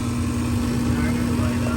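Inducer fan motor of a Carrier gas furnace running, a steady close-up hum with a pronounced tonal whine over low rumble, with a person speaking over it.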